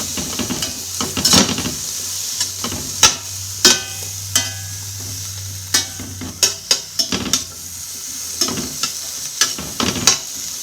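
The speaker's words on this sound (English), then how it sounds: "saute our peppers a little bit" Peppers sautéing in a pan for a frittata: a constant sizzle with frequent sharp scrapes and taps of a utensil against the pan as they are stirred, close and fairly loud, with no talking.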